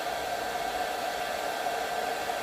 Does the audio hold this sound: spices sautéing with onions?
no